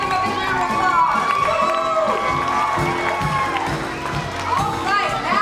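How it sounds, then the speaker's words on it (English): An audience at a school event honoring young student illustrators claps and cheers, with children's shouts and excited voices mixed into a busy, lively crowd noise. "Let's give them a big round of applause."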